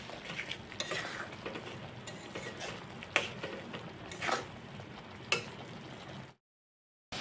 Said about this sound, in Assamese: নিমখখিনিও ভালদৰে মিক্স কৰি দি আছোঁ